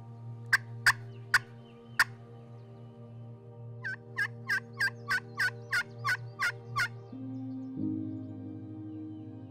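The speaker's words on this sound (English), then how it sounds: "And then he gobbles again" Wild turkey gobbling in a Missouri spring setting, several rapid loud gobbles near the start, a pause, then a longer run of evenly spaced gobbles over a steady low background hum.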